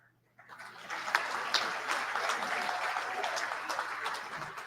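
Applause from an audience at a business awards gala dinner, starting suddenly after a moment of quiet and rising into a dense, sustained clapping that carries on steadily to the end, fairly distant in a large room.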